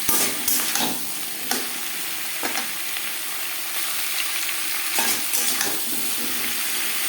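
Papaya curry with coconut being stirred in a pan over a gas flame, a steady sizzling fry broken by several louder scraping stirs, close and with no talking.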